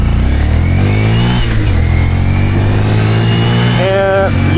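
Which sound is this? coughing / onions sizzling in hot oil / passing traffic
passing traffic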